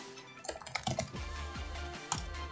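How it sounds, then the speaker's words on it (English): Keys clatter on a computer keyboard in an irregular burst of quick, close clicks and taps, moderately quiet, with no talking. "I'm not even using the Japanese keyboard to type in the words"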